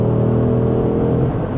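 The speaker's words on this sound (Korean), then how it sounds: "스포츠 리스폰스라고 해서 버튼이 하나 있는데 20초 동안 원하는 만큼 충분히 내달려 줍니다" Porsche Panamera 4 e-Hybrid pulling away hard with the Sport Response boost engaged: a loud, close engine rumble and rising drone, steady throughout with no voices.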